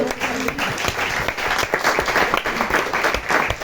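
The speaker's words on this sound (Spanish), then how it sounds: "Le damos un aplauso." An audience at a housing conference gives loud, close, dense applause to welcome a guest, continuous clapping that holds steady throughout.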